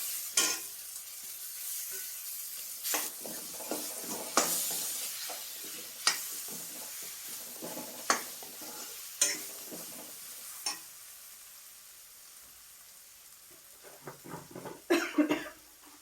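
Cucumber pieces stir and sizzle in hot oil spiced with red chili masala and turmeric, with a soft frying hiss and scattered sharp spoon clatters against the pan, growing busier at the end.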